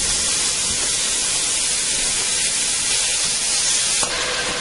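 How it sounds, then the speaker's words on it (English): Ground beef browning in a Dutch oven for spaghetti meat sauce, a steady loud broadband sizzle and hiss held throughout, close up with no talking. "I'm going to add this in and chop it up and brown it up"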